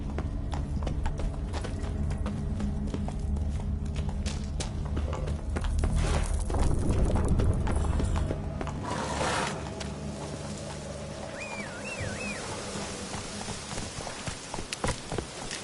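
Roach, the horse in The Witcher 3, gallops with rapid, steady hoofbeats up close over a constant game background, easing off near the end.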